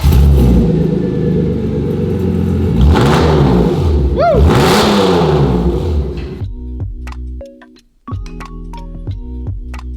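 A BMW E36 engine runs with its exhaust removed, raw and loud, revving up and down in repeated swells before dropping away and restarting into an uneven idle with ticking.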